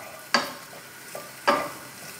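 Pancetta fat sizzles softly in a pan over a lowered flame for carbonara, a steady close hiss broken by two sharp stirring scrapes about a second apart.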